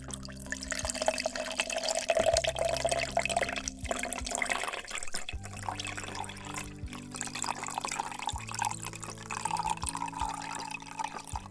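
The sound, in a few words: pouring G-Fuel Cadenza drink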